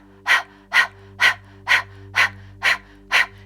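A person imitates a panting dog with tongue out as a breathing exercise. Seven quick, evenly spaced breath bursts sit over a steady low musical drone, close and clear.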